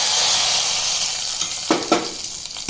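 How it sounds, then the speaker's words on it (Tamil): A Tamil-style tempering is poured into simmering ridge gourd kootu, giving a bright, loud hiss that fades over a couple of seconds before a few short stirring and pan clatters close the moment. "இப்போ தாளித்து கொட்டினதையும் இதில் சேர்த்துக்கலாம்."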